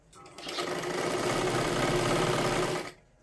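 A sewing machine stitches a katori blouse in one steady, continuous run of close, loud mechanical whirring lasting about two and a half seconds, then stops.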